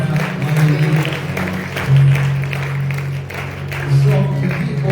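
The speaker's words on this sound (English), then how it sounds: "Wherever you are, just give the Lord a clap" Worshippers clapping for the Lord during a night of fasting and prayer, a loose, moderately loud patter of applause beneath sustained organ or keyboard tones, with swells around the middle and near the end.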